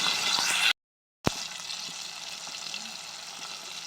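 Onion, green chillies and tomatoes sizzle steadily in a pan for tomato bath, a constant close hiss broken by a short silent gap, with no talk.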